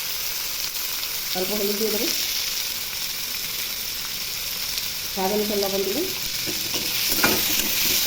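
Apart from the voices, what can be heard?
tomatoes frying in a pan with turmeric and salt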